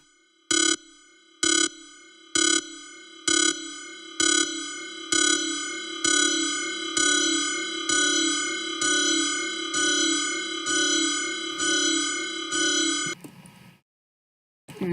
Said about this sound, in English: it's basically this FM sound I made and increased the reverb as it went on.